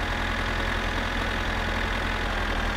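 A tractor engine running steadily in the game My Summer Car, a loud, close, low rumbling idle with an even pulsing throb and no voices over it.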